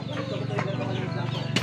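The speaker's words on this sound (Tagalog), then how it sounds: "May mga manok ang lakas nila," Chickens cluck in short repeated bursts over a steady background murmur, with a sharper cry near the end.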